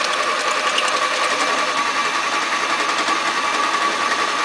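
A Powerwise peristaltic ink pump runs with its rollers squeezing the tubing, giving a steady high-pitched mechanical whir with a faint fast rhythmic pulse, close and constant, with no voices.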